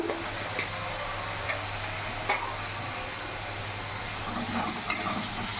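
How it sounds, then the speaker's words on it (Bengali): Spice paste with Kashmiri chili powder frying in a pan for a silver carp fish curry, stirred with a utensil: continuous low sizzle with occasional soft scrapes and taps, no talking. "মশলাটা কিছুক্ষণ কষিয়ে নেব।"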